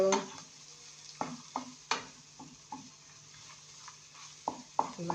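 Food frying in a pan while being stirred, with a steady sizzle under a scatter of sharp, irregular scrapes and clatters from the utensil against the pan, fairly close.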